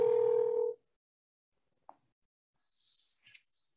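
A cell phone placing a call: a short steady tone at the start, a brief click, then a soft warbling electronic chirp near the end, with silence between.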